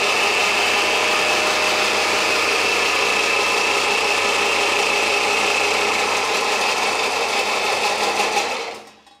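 A 4-horsepower pelletizer machine with copper-wire motor runs on a test, a loud, steady mechanical whirring and grinding drone that holds evenly for about nine seconds before cutting off, with no talk.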